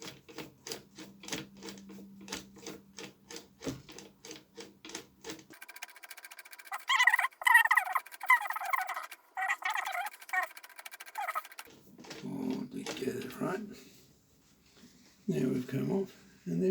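A rusty 1930 Merrow 60 ABB overlocker sews a seam through rag, a fast mechanical chatter in short bursts between pauses, close by, with someone talking before and after.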